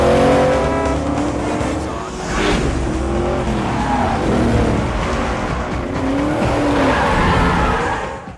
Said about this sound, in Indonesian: mengendarai mobil impiannya Shelby GT 500 melaju bagaikan roket